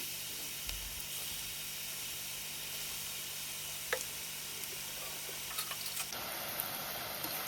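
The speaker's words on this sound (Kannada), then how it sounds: "ಇವಾಗ ಎಣ್ಣೆ ಕಾದಿದೆ ನೋಡಿ, ಒಂದೊಂದನ್ನೇ ಹಾಕ್ತಾಯಿದ್ದೀನಿ." Battered okra (bhindi) pieces fry in hot oil with a soft, steady sizzle and hiss, faint and continuous, with a few small pops and crackles along the way.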